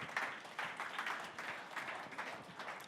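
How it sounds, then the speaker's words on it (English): Audience at an NFT panel event in London applauding as panelists come on stage, a soft, fairly distant spread of clapping that rises and falls slightly over a few seconds. "Round of applause, round of applause."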